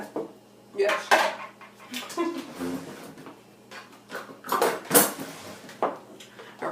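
A spoon scrapes and clinks against a dish while spreading thick cheesecake batter, giving irregular bursts of close utensil clatter separated by short quiet gaps.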